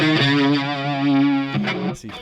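Distorted electric guitar with effects plays a D Mixolydian riff using a flattened C natural, a held bent note ringing loud and close before a few quick picked notes.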